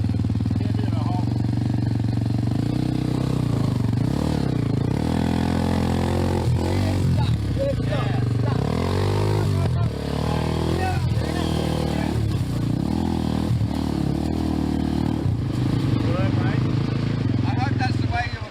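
An old Honda XR motorcycle is ridden over rough ground on a Cambodian backcountry tour, its engine droning and revving continuously up close while riders talk over it.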